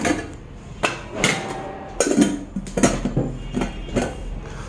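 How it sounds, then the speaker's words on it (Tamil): A lid without a handle is fitted onto a 2-litre stainless steel Pigeon pressure cooker, making a series of close metallic clinks, taps and scrapes as it is worked into place. "இந்த மூடி வந்து 2 லிட்டர் உட்காரத பார்ப்போம்."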